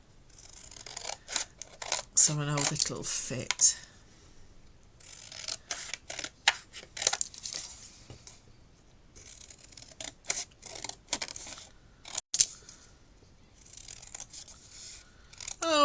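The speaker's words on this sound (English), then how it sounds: "each of these I'm just cutting on either side of that pencil line" Scissors snip through paper and card along either side of a pencil line for a craft storage box, giving sharp, irregular cuts in bursts, close and fairly loud, with a brief bit of talk in between.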